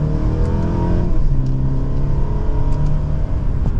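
A 2024 Mercedes-Benz E350 with its smaller engine pulls hard in sport mode and second gear, its engine note climbing steadily and loudly from inside the car, with no talking.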